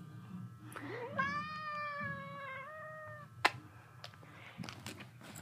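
A pet cat lets out one drawn-out, rising meow that carries for about two seconds. A soft sharp click and light rustling follow at close range.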